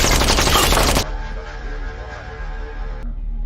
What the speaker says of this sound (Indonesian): langsung melepaskan tembakan saat Bauji akan mengambil pistolnya